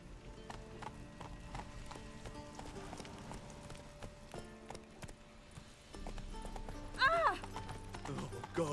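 Hooves of Roach, the horse in The Witcher video game, clip-clop steadily at a gallop amid game ambience, with a brief whinny near the end and speech mixed in at times.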